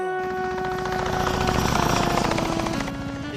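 A cartoon helicopter drones loudly and steadily, its rotor chop and engine tone filling the whole short stretch with no talk.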